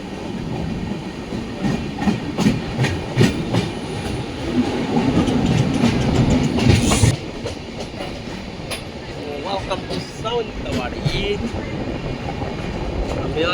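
Konkan Kanya Express rolling into a station platform, its carriages rumbling with rhythmic wheel clatter and a brief squeal, loud and close, with voices and station bustle mixed in.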